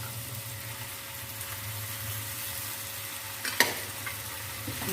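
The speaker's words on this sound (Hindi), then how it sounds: "मकरोनी को हम मिक्स कर लेते हैं।" Macaroni being stirred in a frying pan for Chinese-style macaroni rice, a soft steady sizzle under scraping spoon strokes, with a sharper scrape near the end.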